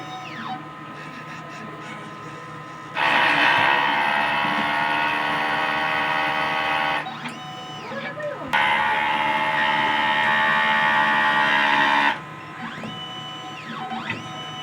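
A DTF printer running a print head cleaning cycle gives off a loud, steady mechanical whir in two long bursts, with quieter gaps of servo whine and clicking between them and no talk over it.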